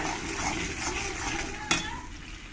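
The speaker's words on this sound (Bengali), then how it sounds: "এই পেস্টটাই আমি এর মধ্যে দিয়ে দেবো দিয়ে ভালো করে মশলার সঙ্গে মিশিয়ে নিতে হবে" Coconut, cashew and poppy seed paste being stirred into spices in a pan for a vegetable kurma, a soft continuous sizzle with one sharp utensil clink.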